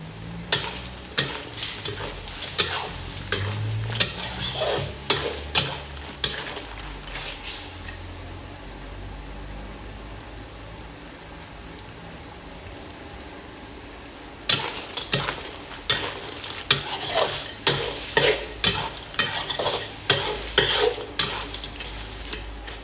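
Blue crab is stir-fried with coconut milk and black pepper in a pan, the spatula scraping and stirring in rapid bursts over a steady sizzle, with a quieter stretch of simmering in the middle.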